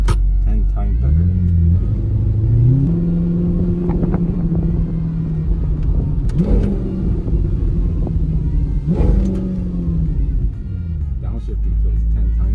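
Audi R8 converted to rear-wheel drive, engine rumbling and rising in pitch through downshifts with throttle blips, steady loud drone throughout under a talking driver.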